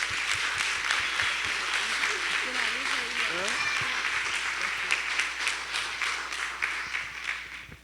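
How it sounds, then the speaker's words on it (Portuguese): Congregation applauding during an evening church service, a steady dense clatter of many hands throughout, with a voice briefly audible over the clapping. "Vamos aplaudir ao Senhor nessa noite."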